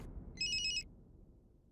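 A telephone rings once in a short electronic warble lasting under half a second, clear above a low room hum, in a Hindi TV drama scene; no one speaks over it.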